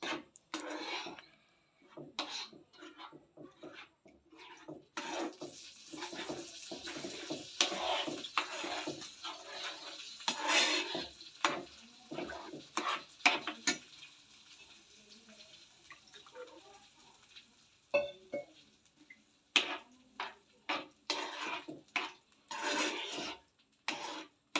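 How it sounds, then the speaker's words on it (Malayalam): Rava kesari (semolina halwa) being stirred in a pan, heard as close, irregular scraping strokes with brief pauses, loud and alone. "ഇനി കട്ടയാവാതെ ഇതൊന്ന് നന്നായിട്ട് നമ്മൾ മിക്സ് ചെയ്ത് കൊടുക്കണം."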